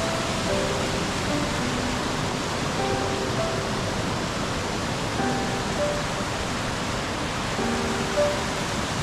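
Waterfall at Plitvice Lakes in Croatia, a steady, loud broadband roar of falling water holding unchanged throughout, with no speech.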